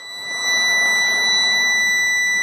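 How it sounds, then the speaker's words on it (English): A 2018 Winnebago Forza 36G Class A diesel motorhome's alarm sounds as the key is turned: a steady, piercing electronic tone that swells within the first half second and then holds unbroken and loud. "Get that alarm turned back off."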